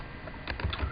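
Quick run of computer keyboard keystrokes typing a name, a close, crisp burst of several clicks within a second.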